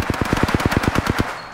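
Rapid automatic gunfire in the video game Apex Legends, about a dozen evenly spaced punchy shots in quick succession, loud and close, then cut off abruptly.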